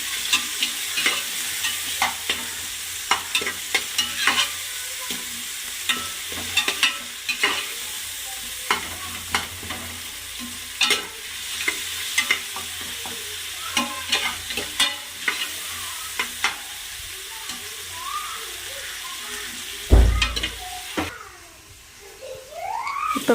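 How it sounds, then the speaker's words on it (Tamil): Onions and tomatoes with a little salt sautéing in a pan, a steady sizzle under repeated close scrapes and knocks of a spoon stirring, ending with a louder clatter. "அப்போ தான் வெங்காயம் தக்காளி நல்லா வதங்கும்."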